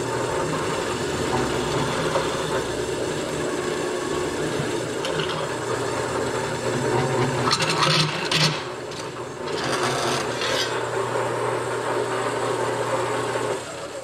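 A 3/8-inch hole in sheet metal being chamfered by hand in a fabrication shop: a steady, close rasping scrape that runs nearly continuously, with a short break and a few brighter grinding bursts partway through, over low shop hum.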